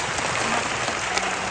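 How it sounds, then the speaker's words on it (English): An audience claps loudly at a sea lion show at Ocean Adventure, Subic Bay, a dense, steady burst of applause filling the whole short moment. "Now folks, everybody clap your hands again."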